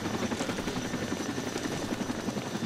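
Helicopter in the video game Arma 2, a steady loud rotor and engine drone with rhythmic blade chop, heard close and continuous with no talk over it.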